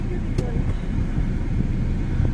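A car runs steadily during a driving lesson, a low continuous engine hum close inside the cabin with people talking over it.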